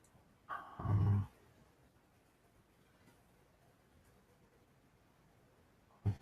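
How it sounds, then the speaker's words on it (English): A video game monster lets out a low, guttural growl, one heavy burst near the start and a brief second rumble at the very end, with near silence between. "The thing is still growling."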